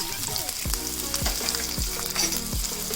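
Curry leaves, green chili and finely chopped ginger fry in hot oil for rice noodles, a steady crackling sizzle with several sharp spattering pops at regular intervals, close and alone with no voices.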